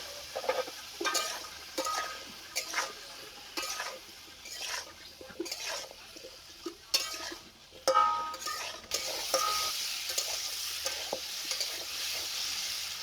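Chunks of elephant foot yam fry in oil left from frying fish, a steady close sizzle broken by repeated scraping stirs and light clinks of the spatula against the pan, with no talk.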